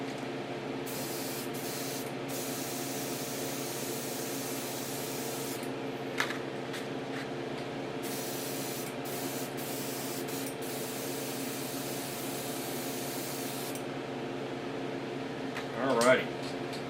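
An airbrush sprays paint onto HO scale Lexan model bodies in short hissing bursts of a few seconds each, over a steady low hum, with a brief clatter near the end.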